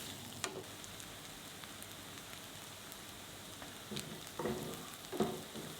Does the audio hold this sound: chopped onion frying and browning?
yes